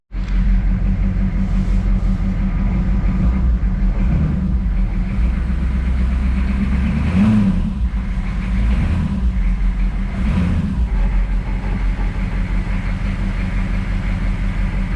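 A Gama Goat truck engine, just fitted with a replacement 24-volt starter, runs steadily at idle with a loud, close, low rumble, showing only slight swells in its drone throughout.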